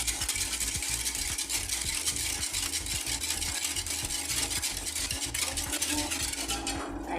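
Milk, sugar and cornstarch are whisked for Arabic mahalabiya milk pudding, with a steady run of quick metallic clinks and scraping against the bowl that continues throughout.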